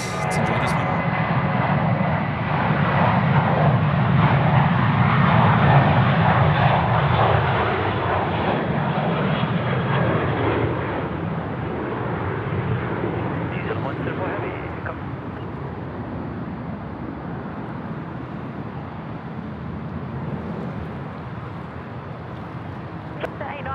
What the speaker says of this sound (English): We've got a Jetstar aircraft now rolling 34 right.